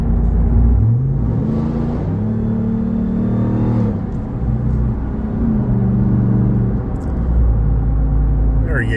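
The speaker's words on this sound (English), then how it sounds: "A little bit of exhaust." Ram TRX pickup truck driving past heavy police presence, its engine exhaust a steady low rumble with rising and falling revs from inside the cab, a voice speaking briefly over it.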